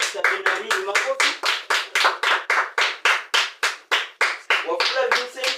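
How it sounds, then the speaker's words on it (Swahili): A classroom of pupils claps together in a steady, rhythmic burst, roughly three sharp, even claps per second for several seconds, loud and close. "Makofi"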